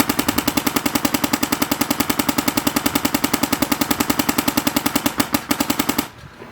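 A 2k1 Angel LCD paintball marker with a Virtue board fires in a rapid, even burst of sharp cracks for about six seconds, loud and close, ending abruptly into silence.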